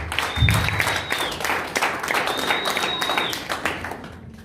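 Congregation applause in a church service, steady clapping from a crowd that swells early and holds at a lively level throughout, with scattered whoops and voices mixed in.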